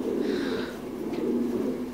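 Titan Thai meat pigeons coo at a pigeon farm in Đắk Lắk province, Vietnam, a steady low murmuring chorus that runs on without pause.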